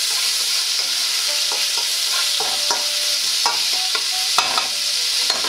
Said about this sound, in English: We're going to start off by cooking the pork first. We want it to brown it up and get a crispy kind of caramelized texture to it.